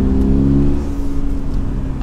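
A Toyota GR86 sports car engine in third gear pulls hard on a mountain road, a loud steady droning hum that eases slightly toward the end.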